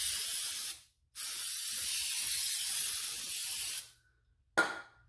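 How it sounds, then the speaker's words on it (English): Carb cleaner sprays from an aerosol can onto a John Deere R tractor part in two long, close hissing bursts with a brief gap between them, followed by a short final spritz. "I'm going to go ahead and hit it with carb cleaner one more time just to get off any remnants"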